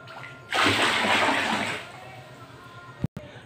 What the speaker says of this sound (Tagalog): Tatlong pitcher na tubig.